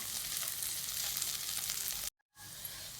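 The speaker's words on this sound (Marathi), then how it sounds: "अशा सगळ्या बारीक गॅसवर अशा भाज्या परतून घ्यायच्या" Mixed vegetables, peas and paneer sautéing in ghee over a low flame for veg pulao, a steady close broadband sizzle that cuts out abruptly near the end, then resumes more softly.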